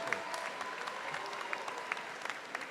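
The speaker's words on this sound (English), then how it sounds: "a round of applause for the Suncoast Brass Quintet" Commencement ceremony audience applauding a brass quintet, a faint, distant wash of steady clapping from a large crowd in a hall.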